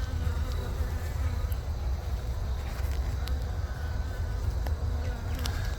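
Honey bees buzz steadily and continuously at a hive, a dense close-up drone that stays level throughout, with a few faint clicks and knocks on top and no talking.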